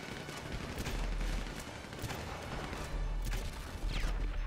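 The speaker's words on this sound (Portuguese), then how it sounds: "Estão mandando bala em mim" Gunfire during a chaotic team deathmatch in GTA V, with sustained bursts of automatic shots and explosive cracks packed together over a constant roar of battle, loud and close throughout.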